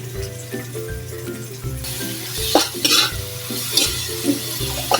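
Tomatoes sautéing in a pan for sarciado with dalagang bukid fish, a steady sizzle broken by repeated scraping stirs and occasional utensil clinks against the pot, close and fairly loud with no talking.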